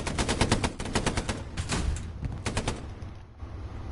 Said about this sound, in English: Does the gunfire sound like it's coming up from up north?